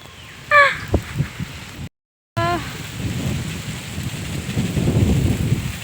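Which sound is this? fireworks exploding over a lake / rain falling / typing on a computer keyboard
rain falling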